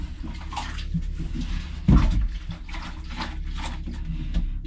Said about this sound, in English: in the toilet, and we'll flush that down.